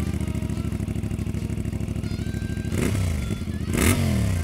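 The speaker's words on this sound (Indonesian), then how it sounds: "jantung dari motor ini adalah mesin CF Moto 450" A CF Moto 450 adventure motorcycle engine idles with a fast, even pulsing throb up close, then gets two sharp blips of the throttle that rise and fall in pitch.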